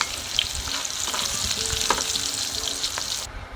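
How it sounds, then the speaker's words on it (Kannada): Garlic, cumin and mustard seeds fry in hot oil already used for roasting peanuts and roasted gram, a dense continuous sizzle with small pops and crackles throughout, close and steady. "ಇದನ್ನೆಲ್ಲ ಹಾಕ್ಕೊಂಡು ಫ್ರೈ ಮಾಡ್ಕೊತಾ ಇದ್ದೀನಿ."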